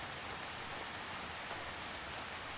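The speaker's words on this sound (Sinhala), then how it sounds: "ඔබ දකින්න වැස්සට වඩා මේ වැස්ස හරි අමුතුයි නේද?" Steady rain falls continuously, a dense, even hiss of drops with no pauses, fairly soft and uniform throughout with no voices.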